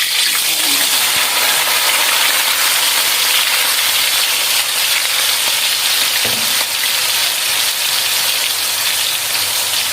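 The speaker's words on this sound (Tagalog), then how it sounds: "prito ko muna ang tokwa. Mainit na ang ating mantika." Tofu fries in hot cooking oil, prepared as an ingredient for homemade vegetable lumpia, with a loud, close, steady sizzle and crackle that runs unbroken for the whole stretch.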